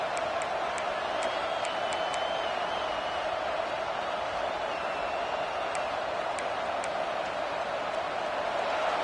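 A stadium crowd in the College Football 26 video game roars continuously, a dense steady wash of cheering with faint whistles, loud and unbroken throughout.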